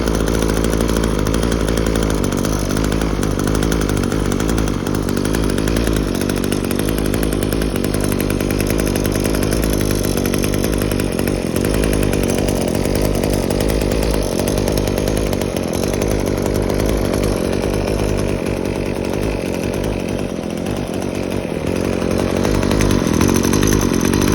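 A Kawasaki TJ27 27cc two-stroke brush cutter engine idles and revs steadily up close, a loud continuous buzzing drone with no talk over it.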